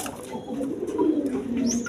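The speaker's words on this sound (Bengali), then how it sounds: "এইখানে এক পেয়ার কবুতর আছে, গিরিবাস কবুতর" A pair of Giribaj pigeons coo softly at close range, a low, throaty rolling call that swells and fades over a couple of seconds with a faint chirp near the end.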